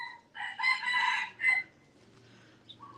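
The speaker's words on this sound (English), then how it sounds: "Good morning, Rooster." A rooster crows once at a moderate distance, a drawn-out cock-a-doodle-doo with a rising then falling call, followed by quiet outdoor ambience along a village laneway.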